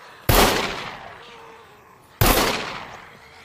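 Two heavy gunshots in the survival game SCUM, each a sharp loud blast followed by a long decaying rumble and echo, spaced about two seconds apart with no talk.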